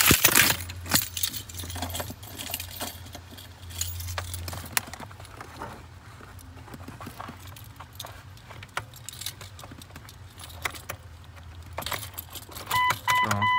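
Car keys jangle in a Cherokee XJ Sport 4.0, making bursts of bright metallic rattling and clinks close by, with quieter handling noise in between and no talking.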